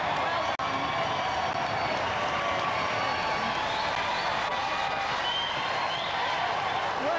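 A large studio audience at the Robot Wars grand final for Chaos 2 fills the air with dense, sustained applause and crowd noise, steady and loud throughout with one sharp click near the start.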